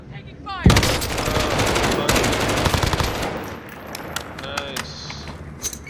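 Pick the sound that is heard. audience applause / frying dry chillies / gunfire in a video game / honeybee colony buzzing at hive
gunfire in a video game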